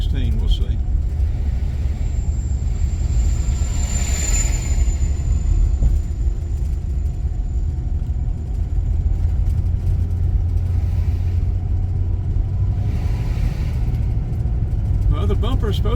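A car rolls along a dirt road in Barrow County, Georgia, with a steady low rumble of engine and tires heard from inside the cabin. Someone talks over the noise.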